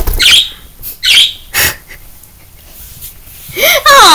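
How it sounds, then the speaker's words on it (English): Cartoonish bird chirps and squawks sound in short repeated bursts inside a Roblox game, loud and close, mixed with other game sound effects. "Oh, and look, some cute birds have chirped."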